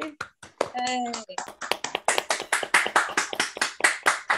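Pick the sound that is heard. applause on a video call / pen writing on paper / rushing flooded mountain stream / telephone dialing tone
applause on a video call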